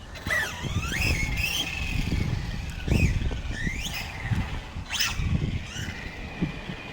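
A HoBao EPX radio-controlled car on its first run during a GPS speed run: a high electric whine repeatedly rises and falls as it accelerates and slows, with steady wind buffeting on the microphone and no talking.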